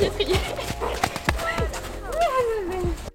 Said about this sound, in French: Et peu après, Lyria passe au trot.